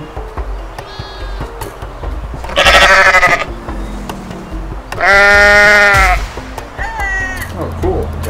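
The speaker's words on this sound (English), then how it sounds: "So, here is my goat, apparently." A goat in the video game Goat Simulator on Xbox bleats in two loud, drawn-out calls, with shorter quieter bleats and cries scattered between them.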